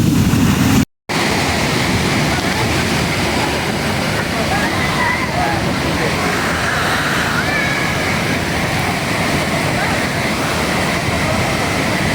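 Niagara Falls thunders nearby as a dense, continuous roar of falling water. It stays loud and unbroken apart from one brief dropout near the start.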